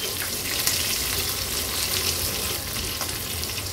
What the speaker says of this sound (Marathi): आता व्यवस्थित ही फोडणी आपण थोडी तडतडून घ्यायची आहे